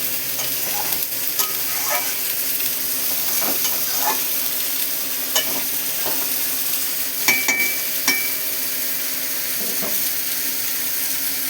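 Pui shak (Malabar spinach) curry with prawns being stirred in a pan after a splash of water, a soft steady sizzle with scattered scraping clicks of the spoon against the pan, close and quiet.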